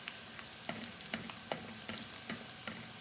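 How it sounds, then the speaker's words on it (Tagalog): Garlic sizzles and fries in pesto oil in a pan, with a steady hiss broken by soft, regular clicks of stirring, close and alone. "bawang ginisa sa oil ng pesto"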